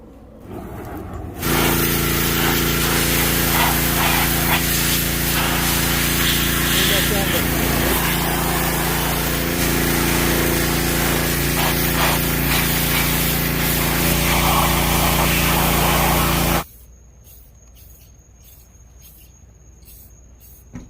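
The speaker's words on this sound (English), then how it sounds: "stripping on the paint, get the red off of there." A power tool strips red paint off AE86 subframe and sway bar spacers, with a loud, harsh, continuous grinding whine lasting about fifteen seconds before cutting off to a quiet room.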